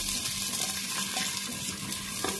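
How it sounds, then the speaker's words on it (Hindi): Chopped onions dropped into hot oil in a cooking pot, giving a steady, close broadband sizzle of frying that holds evenly throughout with no voices. "ऑयल मैंने गर्म कर लिया है प्याज डालती हूँ"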